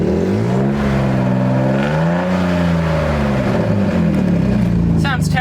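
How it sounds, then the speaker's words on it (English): A drift car engine with a leaking exhaust revs up and falls back in a rough, rumbling drone. The deep, uneven pitch rises and sags while the engine runs continuously, loud and close. "I'll give it some gas."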